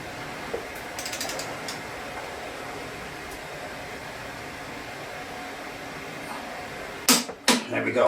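A torque wrench tightens the rear wheel axle of a 2003 Harley-Davidson VRSCA V-Rod, with a few sharp ratcheting clicks coming close and loud near the end after a quiet stretch of workshop hum.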